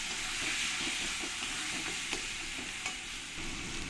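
Ground cumin, coriander and fennel are stirred into paneer masala frying in a pan. A dense, close sizzle continues throughout, punctuated by light rhythmic spatula scrapes and a couple of small clicks. There is no speech.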